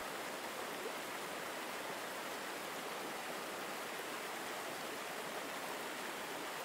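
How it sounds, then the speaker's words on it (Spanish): A flowing stream murmurs in a soft, continuous wash of water, even and unbroken throughout with no other sounds. "el suave murmullo del agua del arroyo"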